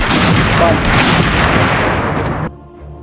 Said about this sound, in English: another member of the Big Four, also a sniper named Django, immediately shows his skills to help the escape run smoothly